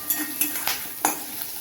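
Curry leaves sauté in a pan for a village-style mutton curry, a low sizzle under a few sharp scrapes and taps of a spatula against the pan, roughly evenly spaced.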